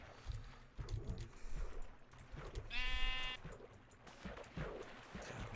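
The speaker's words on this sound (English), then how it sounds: "Whenever I see the sheep, I just grab the wool" A single Minecraft sheep bleat from the old Beta 1.7.3 version rings out clearly mid-clip, a short wavering baa over quiet game ambience and soft clicking.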